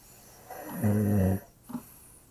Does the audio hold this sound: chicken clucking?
no